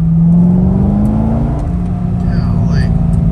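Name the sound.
sports car engine revving with exhaust pops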